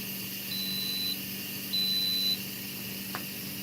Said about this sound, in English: It'll beep like that for about 6 or 7 times, I think.